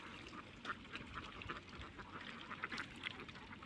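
A large flock of ducks quacks continuously at a moderate distance, many overlapping calls forming a steady, dense chorus.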